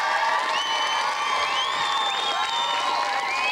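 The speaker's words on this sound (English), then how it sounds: "Give him a round of applause." A studio audience on a television quiz show cheers and applauds for the departing champion, loud and continuous with whoops and rising tonal music lines layered over the crowd noise.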